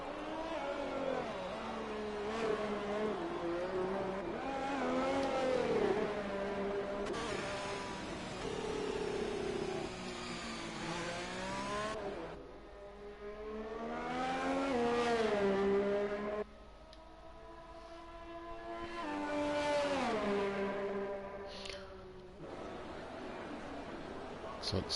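F1 2020 race car leaving the pits in the video game, its engine rising and falling in pitch through repeated revving and gear shifts, heard under continuous commentary.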